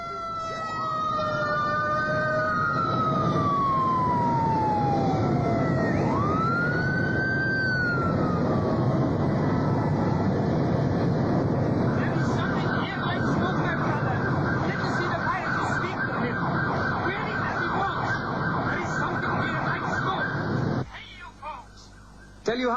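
Wailing sirens of fire trucks racing along a runway after a troubled airliner's landing, rising and falling loudly and continuously with rumbling engines beneath, before cutting off abruptly near the end.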